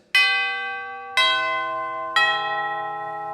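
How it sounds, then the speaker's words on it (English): Three tubular bells struck about a second apart, each bright chime ringing out and overlapping the last, loud and close with no talking. "the tubular bells, which sounds like this."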